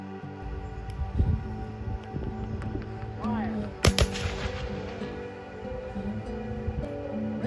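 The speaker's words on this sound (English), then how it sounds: "They discussed their weapons, and then they proceeded with the firing demonstration." Civil War musket firing demonstration at Fort Monroe in Hampton, Virginia: a single sharp distant report rises briefly out of steady outdoor background noise, with scattered small knocks and rustles around it.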